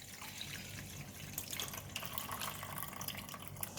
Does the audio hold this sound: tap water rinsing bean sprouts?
yes